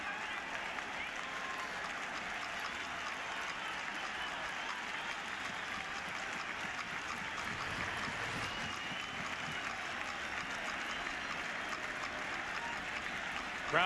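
A baseball stadium crowd at a 2000 World Series game roars and applauds in a continuous, broad wash of cheering, steady and dense with no breaks, building slightly toward the end.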